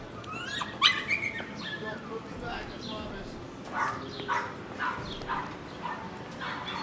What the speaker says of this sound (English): It's a nice little dog.